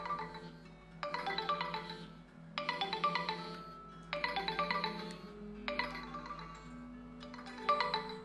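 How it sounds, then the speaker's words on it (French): A mobile phone ringtone plays a repeating bright melodic chime in bursts about every two seconds, moderately loud and clear in a quiet room with no talking. "D'accord, ça c'est mon téléphone."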